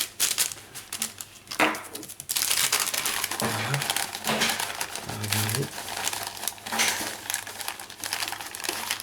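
Hardened craquelin dough, a crisp sugar-butter topping for choux pastry, being cut into small circles with crinkly, crunchy scraping and cracking sounds, steady and close, with occasional voice in the background.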